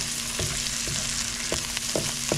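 Blue marlin fish frying in a pan, a steady loud sizzle broken by several sharp utensil clanks and scrapes, with no voices.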